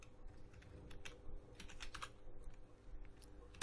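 Steady typing of Python code on a computer keyboard, rapid clicking keystrokes in irregular bursts, close and fairly quiet, with no talking.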